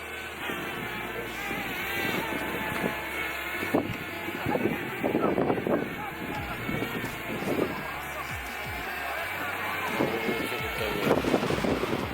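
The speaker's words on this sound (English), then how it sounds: "It is windy." Gusty wind buffets the microphone with a rumbling roar outdoors while flying a DJI Mavic Mini drone, while people talk intermittently over it.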